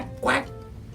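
A single short quack, nasal and close, stands out briefly against a quiet background; it may be a person imitating a duck.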